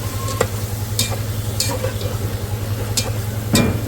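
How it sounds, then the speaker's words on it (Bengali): Fish being stirred with salt in a hot pan, with a steady low frying sizzle and a few sharp scrapes and clinks of a utensil against the pan at irregular intervals. "লবণ দিয়ে মাছ আর লবণ মিক্স করে নিই"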